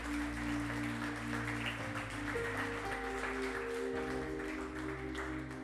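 Clapping from a church congregation as an offering of praise to the Lord, a steady spread of hands over sustained low organ or keyboard chords.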